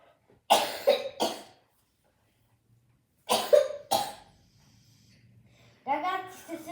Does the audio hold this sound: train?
no